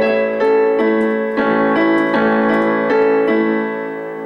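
Piano playing a short passage of a current pop song as a lesson demonstration: sustained chords with a few separate note changes at a steady, moderate volume, close and alone with no talking.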